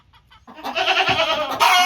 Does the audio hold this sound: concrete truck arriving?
no